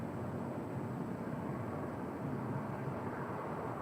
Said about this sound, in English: this is Southwest Airlines 434 coming in from Nashville. 737-800 that's been repainted